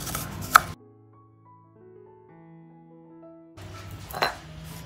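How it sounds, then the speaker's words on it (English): A knife slices fingerroot into small pieces: a short burst of cutting, a quiet gap with soft musical tones, then more close cutting strokes at the end. "Then slice to be a small piece"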